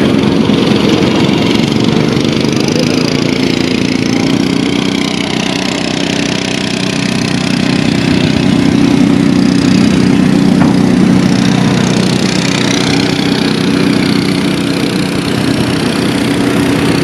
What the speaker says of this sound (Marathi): इथं जॉन डिअरचा आपल्याकडे एक ट्रॅक्टर आहे 5310